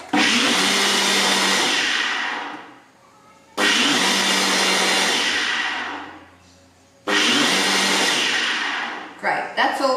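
A countertop blender whirs as it mixes kefir until creamy. It runs in three loud, steady bursts of a few seconds each, each winding down before the next starts, with a brief clatter at the end.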